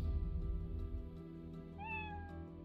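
A single short meow from a cat in a video game rises clearly near the end, heard over a low steady game background hum and no talk.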